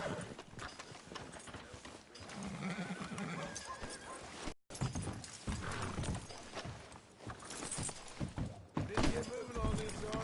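Horse hooves clip-clopping in Red Dead Redemption 2, with a horse neighing and whinnying among steady street ambience, while voices talk over much of the scene.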